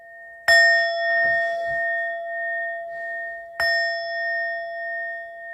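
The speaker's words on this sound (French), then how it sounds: "Les 3 petits coups de gong." A small gong is struck twice, several seconds apart. Each bright metallic hit leaves a long, clear ringing tone that slowly fades in a quiet room, with faint soft knocks between the strikes.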